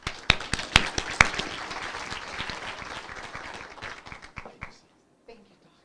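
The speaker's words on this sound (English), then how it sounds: "with a round of applause, help me welcome the current Vice Chancellor of University of Limpopo, Dr. Jeffrey Mabelebele." Audience applause at a university colloquium welcoming the vice chancellor, a burst of scattered claps that starts sharp and close, thins out, and fades to near silence after about five seconds.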